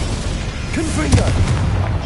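In Hogwarts Legacy, a Confringo explosive spell erupts as a loud, rumbling boom with a sustained crackling tail. It is heard amid dense game noise, with a voice shouting over the blast.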